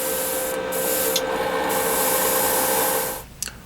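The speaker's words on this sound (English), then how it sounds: "Spray the thing, stupid." An airbrush lays Aqua Gloss Clear onto a model car in a steady, loud, close hiss that runs unbroken for about three seconds, then cuts off, leaving a couple of faint clicks.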